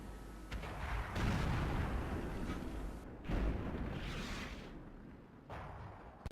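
Tank cannon fire in a tank combat video game, with a KV-4 tank among the vehicles: repeated heavy, booming blasts with long rumbling tails, loud and close, one after another.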